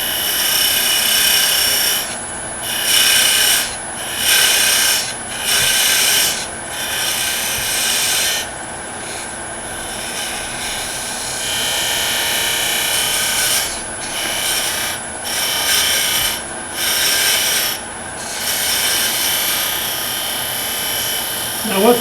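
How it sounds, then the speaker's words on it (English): A parting tool cuts into spinning wood on a lathe, making a loud, rough scraping rasp in repeated bursts with short pauses between them. "I got a parting tool. I'm just going to go in and go down about 2 or 3 millimeters."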